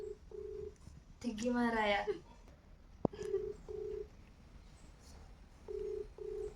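DTMF keypad tones from a phone being dialed for a prank call: a few short beeps early, then a run of paired beeps and two more near the end, with people talking over and between them.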